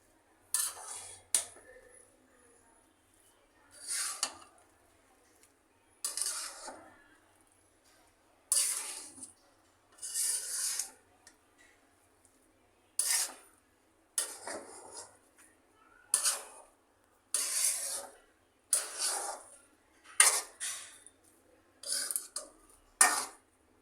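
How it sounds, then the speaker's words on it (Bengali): Chicken biryani being turned over in a pot, with a spoon scraping and clinking against the metal in a steady series of short, close knocks and scrapes separated by brief pauses. "এবার এটাকে উলট পালট করে দিই"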